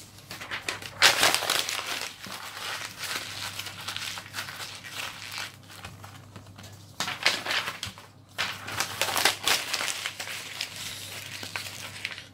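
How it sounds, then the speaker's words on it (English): Sheets of paper are screwed up by hand into a tight ball, giving close, continuous crinkling and crunching that swells in bursts, with no talking. "get three bits of paper, screw them up into a ball"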